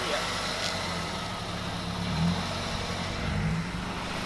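A Mazda MPS engine idles steadily while warming up, a low, even rumble that holds constant and close for the whole stretch, with no talk over it.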